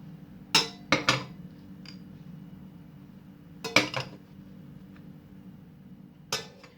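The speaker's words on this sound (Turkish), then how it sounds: "derin bir tencereye bardaklarımızı yerleştiriyoruz" A few hard clinks of soufflé cups set down into a deep metal pot, in three separate bursts with quiet pauses between.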